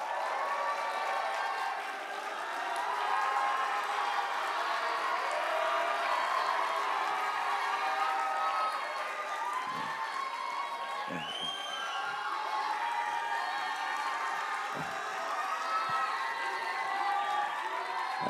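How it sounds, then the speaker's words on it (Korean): A church congregation applauds at length, steady clapping filling the room with scattered cheers and whoops over a continuous crowd murmur. "우리 큰 박수 한번 받아주시고"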